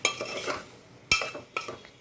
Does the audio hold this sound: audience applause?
no